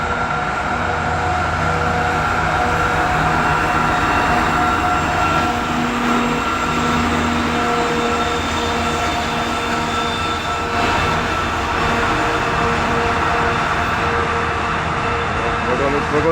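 A 2TE116 diesel locomotive labours uphill toward Golikovka station hauling a very heavy loaded freight train, a loud, steady engine drone with rumbling wagons and faint wheel squeal, continuous and close throughout.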